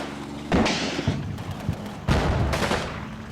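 A tank cannon fires in the Combat Mission Normandy game, two heavy booming shots about a second and a half apart, each with a following crack and rumble over a constant low background.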